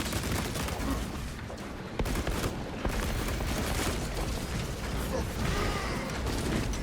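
A heroic heavy bolter in Space Marine 2 hammering away at a Tyranid horde, a steady stream of rapid heavy shots with mechanical clatter and a few sharper cracks, loud and unbroken across the moment.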